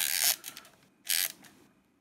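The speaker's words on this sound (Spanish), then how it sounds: "obturamos así de, silencioso. Escuchamos de nuevo." A Yashica Mat 124G twin-lens camera with a Copal leaf shutter fires twice, each a quiet short mechanical whir and click about a second apart, heard alone and close.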